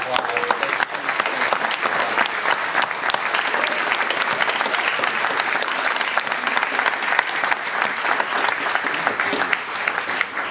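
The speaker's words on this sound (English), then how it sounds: "we owe them a huge round of applause" Sustained applause from an audience at a gratitude celebration honoring Chuck and Cheryl Guth, steady and dense for about ten seconds with a faint murmur of voices underneath.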